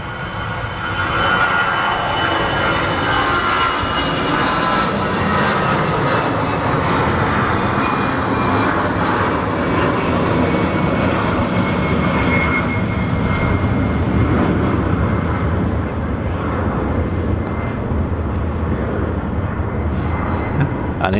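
An airliner takes off from Manchester Airport on a rainy morning, its jet engines roaring loud and sustained for the whole stretch, a broad rushing thunder that only slowly eases as it climbs away.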